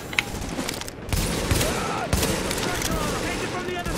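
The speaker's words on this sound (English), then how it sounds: "Where the hell am I getting shot from? Through the window, they shoot through the windows." Gunfire from enemies shooting through windows in The Division, a rapid burst of shots with sharp impacts around 1 and 2 seconds, loud and close over a busy game soundscape.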